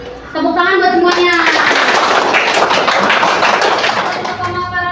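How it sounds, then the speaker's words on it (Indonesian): Students in a classroom clap their hands together in a loud, dense burst of close applause that starts abruptly after a teacher's voice and holds steady, with children's voices mixed in. "Tepuk tangan buat semuanya."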